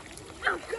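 A single short dog bark at a swimming pool rises briefly above a low, noisy background; it is fairly faint.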